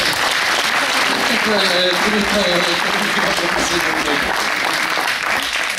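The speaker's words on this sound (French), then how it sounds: "applaudissements s'il vous plaît" Steady applause from an audience at a cycling club's young riders presentation, continuous and fairly loud, with voices talking over it throughout.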